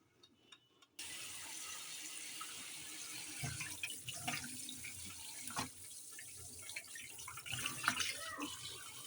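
Running tap water splashes into a sink while about five kilograms of fish, rohu and catla, are rinsed by hand, a steady near stream broken by irregular splashes and clatters, with no talk.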